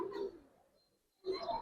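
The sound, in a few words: silver pigeon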